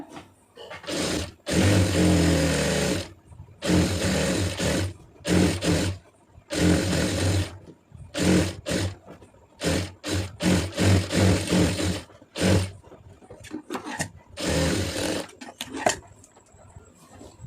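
A sewing machine stitches a blouse neck piece in loud, buzzing start-stop runs of a few seconds each, broken by short pauses, close up and with no voices.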